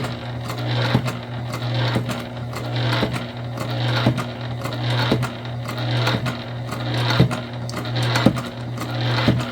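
Sewing machine stitching a tote bag, a steady low motor hum under rapid rhythmic needle clatter, close and loud, with a few sharper knocks as the fabric sticks.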